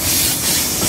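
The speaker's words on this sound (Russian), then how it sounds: "наш едет Итало." An Italo high-speed train rushes past close by, a loud, steady broadband roar and hiss that holds for the whole moment with no pause.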